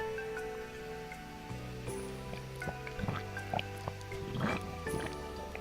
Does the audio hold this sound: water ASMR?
yes